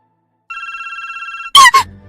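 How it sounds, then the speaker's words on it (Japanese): A cell phone rings as a sound effect in a visual novel game, giving a steady electronic trill of about one second, followed by a loud, sharp burst of sound. "For her cell phone to ring at a time like this"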